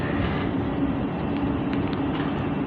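A Class 458 electric train on third-rail track at Clapham Junction, heard as a steady, loud, continuous rumble and roar throughout, with no talk.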